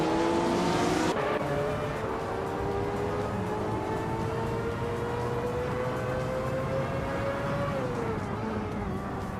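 Race cars in a video game race, engines droning with rising pitch and a sharp shift early on, steady and loud throughout, with faint commentary underneath.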